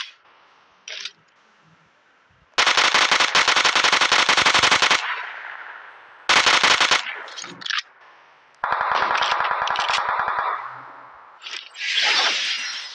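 Loud automatic gunfire from the mobile shooter game PUBG Mobile comes in several long, rapid bursts, broken by short gaps and a few single shots.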